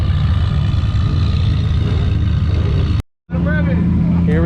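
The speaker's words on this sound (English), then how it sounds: "Here we go with the Aventador Sv Roadster." Lamborghini Aventador SV Roadster engine: a loud, dense roar filling the first three seconds, a sudden brief cut to silence, then the rumble returns with rising tonal sweeps.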